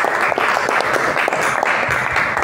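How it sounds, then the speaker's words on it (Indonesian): Applause from a classroom audience during a mathematics teaching session, steady clapping sustained throughout at moderate loudness with no talk over it. "Tepuk tangan buat Vicky."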